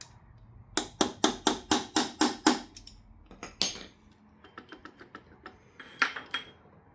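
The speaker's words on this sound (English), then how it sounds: "Ignore that knocking, I took that cover off the input shaft." A quick run of sharp metallic knocks on a Leyland 154 tractor gearbox input shaft, about eight in a row, followed by scattered lighter taps and clinks, close and distinct.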